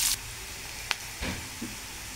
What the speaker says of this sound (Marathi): लसूण टाकून घ्यायचं, खिसलेलं आलं घेतलेलं, कढीपत्ता, कांदा टाकून भाजून घ्यायचं।